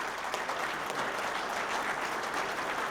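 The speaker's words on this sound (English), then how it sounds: "let's give him a big round of applause" Steady applause from a crowd at a mayors' golf outing welcoming the village mayor, an even, moderately faint wash of clapping lasting a few seconds.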